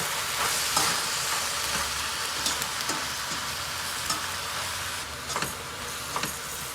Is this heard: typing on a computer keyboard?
no